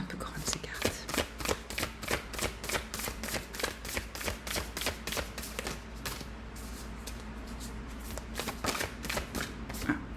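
Tarot cards riffled and shuffled by hand, a steady run of quick crisp card flicks close to the mic, repeating evenly across the whole stretch with a brief pause midway.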